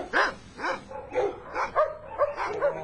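A trained dog barks about six times in quick succession, each bark sharp and close, with short gaps between them in a steady rhythm.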